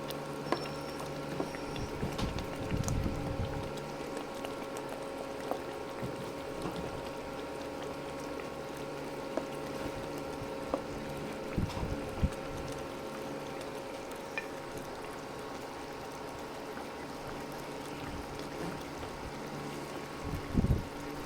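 Water bubbles and simmers quietly and steadily, with a soft crackling patter and occasional louder pops, no talking.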